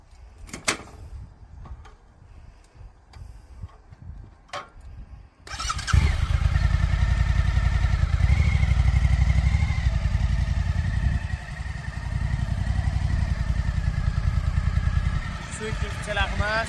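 A 2025 Suzuki V-Strom 1050 DE motorcycle in a dealership parking lot, first quiet with faint clicks, then the engine starts about a third of the way in and runs on as a loud, steady, close rumble.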